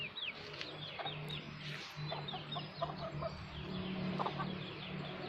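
Several chickens cluck and chirp softly at a distance, scattered calls over a faint background hum.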